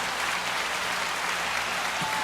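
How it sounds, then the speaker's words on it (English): A small audience applauds a podcast guest, a dense, steady wash of clapping that stays even and fairly close through the whole short stretch, without speech. "we got to give him a round of applause."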